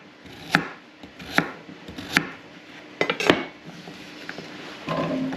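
A knife chops vegetables into chunks on a board in a home kitchen, a handful of sharp, close thwacks at uneven intervals with faint clatter between them.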